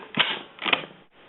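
An empty polymer magazine seated into a Ruger Gunsite Scout Rifle, two short close plastic-on-metal clicks about half a second apart, then quiet.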